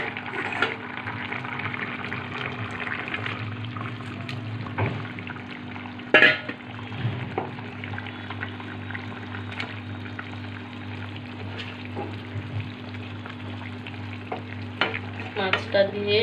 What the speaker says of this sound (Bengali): মাছটা দিয়ে আর একটু ফোটাবো।